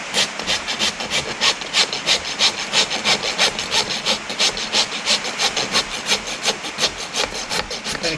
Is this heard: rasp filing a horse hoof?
yes